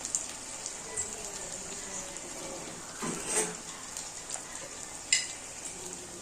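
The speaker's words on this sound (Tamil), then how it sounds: "கொஞ்சம் உப்பு, வெங்காயம் வதங்க." Onions sautéing in a pan with salt in a home kitchen, a steady bright sizzle running throughout with a few soft stirring scrapes and clicks rising above it.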